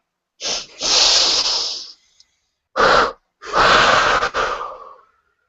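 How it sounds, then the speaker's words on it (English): Deep guided-meditation breaths, loud and close: a long rushing exhale, a short sharp breath, then another long double exhale fading out, with clear pauses between them. "let's recognize that energy being drawn up with our inhales and down with our exhales"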